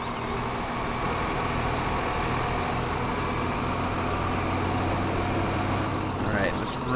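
In Farming Simulator 2015, a truck engine runs at a constant low rumble, steady and close throughout with no pauses.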